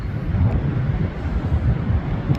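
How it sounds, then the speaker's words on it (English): Low, rumbling wind buffets steadily throughout outdoors by the surf, a continuous gusty roar with no voices. "It's windy right now."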